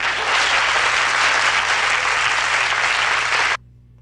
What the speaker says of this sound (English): Let me give them a round of applause.